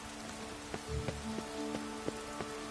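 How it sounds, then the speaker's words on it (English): Rain in The Witcher 3 video game, a soft, steady hiss of falling water with scattered, faint drips and taps over a quiet background. "Rain like this would fetch a fortune in Zerrikania."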